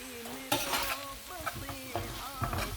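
Fish cooking on a tawa for a Kashmiri tawa fish, a close sizzle broken by repeated spatula scrapes and taps, under soft background music.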